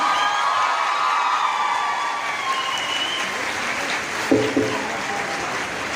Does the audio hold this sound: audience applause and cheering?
yes